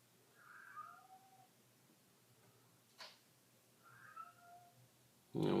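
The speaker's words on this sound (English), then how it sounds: "Sorry if you can hear my cat in the background." A cat meows indoors in the background, two separate drawn-out meows a few seconds apart, faint and fairly distant, with a brief knock or click between them and a louder bump at the end.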